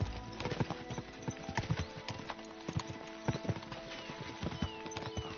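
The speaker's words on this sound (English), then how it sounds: "We should spur the horses on." Horses' hooves clip-clop in a quick, steady rhythm of sharp knocks in the medieval game Kingdom Come Deliverance 2, riding on continuously over a low background.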